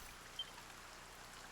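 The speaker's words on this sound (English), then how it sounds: "Lo, the rain doth fall" Steady rain falls in Dragon Quest I HD-2D, a soft, even hiss of droplets at low level with no voices, constant through the moment aside from one tiny blip.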